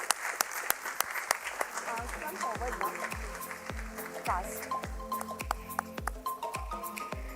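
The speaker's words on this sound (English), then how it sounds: "Big round of applause for him." Audience at a hotel company's stock exchange listing ceremony claps for the director, with sustained applause alongside rhythmic thumping music and voices throughout.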